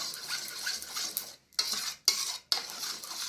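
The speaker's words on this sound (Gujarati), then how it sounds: "બરાબર મિક્સ થઈ જાય ને એવી હલાવતા રહેવાનું।" Spoon stirring a thick paste of besan, aloe vera gel and curd in a bowl, a close, steady scraping and clinking that breaks off into three short pauses.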